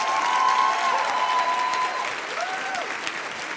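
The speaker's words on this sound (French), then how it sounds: "Merci, merci pour tous ces applaudissements." An audience breaks into sustained, dense applause that stays loud and even, with a faint whistle-like tone rising and falling above the clapping.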